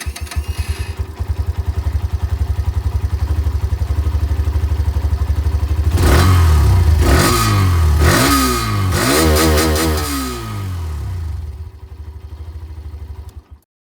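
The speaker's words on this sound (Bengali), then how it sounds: "প্রতিটা বাইকে যেরকম আমি আপনাদেরকে শোনাবো বলেছি, সেরকম এখানেও আপনাদেরকে আমি আওয়াজটা শুনিয়ে দিই।" Motorcycle engine idling steadily, then revved hard in several rising and falling bursts before dropping back and cutting off, loud and close.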